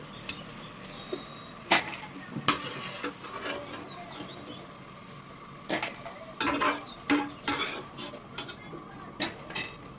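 Soya chunks (meal maker) fry in a pan for Manchurian, a soft sizzle punctuated by sharp clinks and scrapes of a spoon stirring against the metal, heavier toward the end, with no voices.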